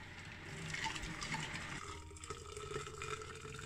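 Plastic parts from a Corgi Ford Thunderbird model car are washed in a soapy water bath, with steady splashing and running water, close and fairly loud, and no voices.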